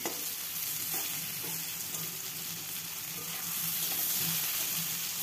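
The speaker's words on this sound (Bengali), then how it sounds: "বেগুনটাকে ভালোভাবে ভেজে নেব" Eggplant pieces fry in a pan over medium gas heat, giving a steady, close, continuous sizzle with faint stirring and turning noises throughout.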